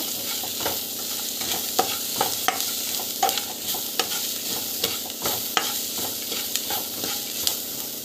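Onions sauté in a pan with asafoetida and salt, sizzling steadily. A spoon scrapes and stirs with repeated sharp clicks against the pan.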